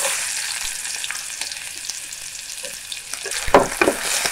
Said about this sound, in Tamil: இதில் வந்து வெங்காயம் சேர்த்துக்கலாம்.